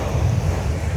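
Sea waves wash steadily against the shore, a close, low rush mixed with wind buffeting the microphone, heard briefly with no speech.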